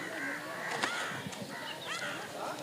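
Several crows caw, giving a run of harsh, scattered calls at low to moderate loudness over a steady outdoor hiss, with the calls clustering near the middle and end.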